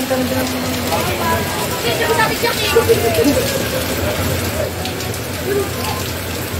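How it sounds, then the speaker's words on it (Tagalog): Heavy rain pours down steadily in a dense wash of hiss, with people talking close by over the downpour. "Grabe ito guys, ang ulan."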